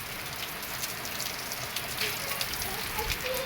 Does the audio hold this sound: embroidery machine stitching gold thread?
no